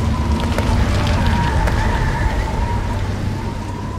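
A dramatized storm of thunder, hail and heavy rain roars steadily and loudly throughout, with dense rain hiss over low rumbling and no voices.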